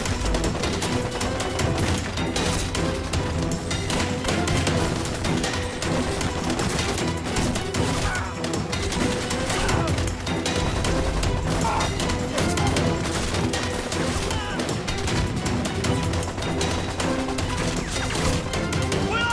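War film battle gunfire: dense, continuous volleys of rifle and machine-gun shots with crashing impacts, loud and unbroken throughout, layered under a busy soundtrack.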